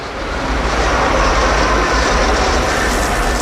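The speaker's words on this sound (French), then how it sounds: "Chaque nuit, cette énorme machine lime les rails pour limiter les frottements avec les roues métalliques des trains" A huge rail grinding machine filing the rails of the Paris metro at night in an underground tunnel, giving a loud, continuous, dense grinding roar with no pauses.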